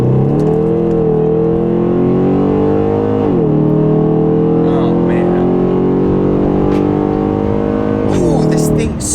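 A Mercedes E550 engine revs hard while accelerating, a loud rising roar that climbs through gears with brief drops at each shift, heard from inside the car with a man exclaiming briefly.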